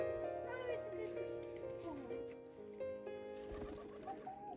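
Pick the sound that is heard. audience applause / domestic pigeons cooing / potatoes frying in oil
domestic pigeons cooing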